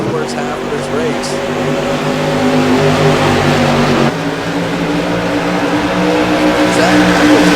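Modified race cars in a CRA Modified Madness Tour race at New Hampshire Speedway, a loud steady engine roar with overlapping engine tones coming out of a turn, continuous throughout, with commentary over it.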